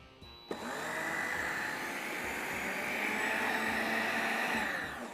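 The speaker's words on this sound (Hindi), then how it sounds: "नीचे जो भी पिसता जा रहा है ना वो जमता जा रहा है" An electric grinder whirs up sharply and grinds pancake mix ingredients, a steady loud motor whine with a gritty churning texture that holds for several seconds.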